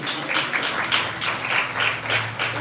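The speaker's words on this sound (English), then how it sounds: "Give them a hand clap, y'all." Audience hand clapping, a rhythmic pulsing of claps swelling and fading about three times per second, fairly close and moderately loud with a low hum underneath.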